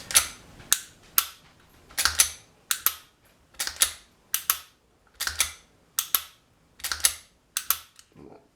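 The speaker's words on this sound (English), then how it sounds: "That's about 20 times I've dry fired this now." A SIG P365 pistol dry fired over and over, each trigger pull giving a sharp, close metallic click, about fifteen in a loose, steady rhythm, with faint handling noise between them.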